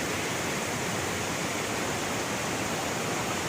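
Continuous close roar of cascading water at Tat Kuang Si falls near Luang Prabang, Laos, an even hiss-like wash that holds steady throughout without speech.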